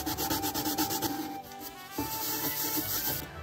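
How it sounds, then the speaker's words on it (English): An electric sander rubs down a wooden craft piece with a continuous close whirring and abrasive scrubbing hum that dips briefly partway through. "So I'm just going to rub down with my sander the last little area that I haven't rubbed down yet."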